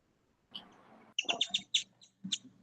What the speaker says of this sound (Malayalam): നല്ല കിളിയുടെ ശബ്ദം കേൾക്കുന്നു.